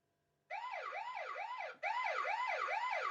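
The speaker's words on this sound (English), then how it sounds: "And that's the alarm." A loud electronic siren from a Eufy home security system wails in rising, repeating sweeps, cutting off briefly and then starting again at close range.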